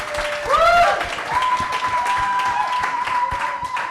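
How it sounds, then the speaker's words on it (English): An audience applauds actor Lucian Samati as he is welcomed as first guest at a screen industry climate event, steady clapping filling the room while a few brief whoops and voices rise over it. "Round of applause for Lucian."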